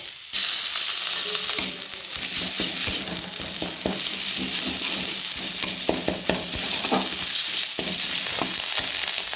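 Ginger paste frying and being stirred in a pan of browned garlic for a prawn malai curry, a steady loud sizzle with spatula scrapes throughout.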